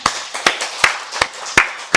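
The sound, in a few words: congregation applause in church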